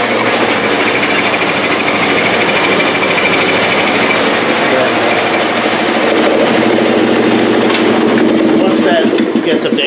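An air compressor in a metal maker's whirligig shop in Provincetown, Massachusetts, runs steadily as it builds pressure for a pneumatic air hammer, a loud continuous mechanical drone with hissing leaks.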